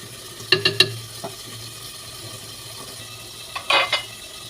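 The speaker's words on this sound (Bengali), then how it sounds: "এটাকে ভুড়িগুলোকে একটু পরে পরে শুধু নেড়ে দিব।" Beef tripe fries in a pan with a low, steady sizzle, broken by two short bursts of spatula clinks and scrapes as it is stirred.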